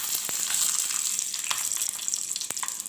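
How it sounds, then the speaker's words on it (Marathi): Green chillies frying in oil in a pan, a dense close sizzle and crackle with small pops throughout, no talking. "तेलात सोडते आता मी मिरची"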